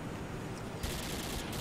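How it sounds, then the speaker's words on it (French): Automatic rifle fire in a video game, a dense run of shots that starts partway through and continues loud to the end, with a softer rumble underneath before it. "Donc là je tire sur mon pote."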